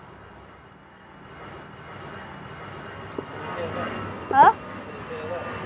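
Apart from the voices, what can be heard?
EasyJet airplane flying overhead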